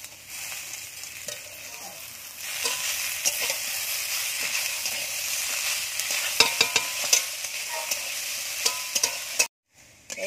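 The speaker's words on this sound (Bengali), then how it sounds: "আমার শাকটাও একেবারে বেগুনের সাথে ভালোভাবে ভাজা হয়ে গেছে" Sour spinach and eggplant sizzling steadily in a pan, with a close, continuous frying hiss and intermittent scraping and stirring clicks, briefly cut off near the end.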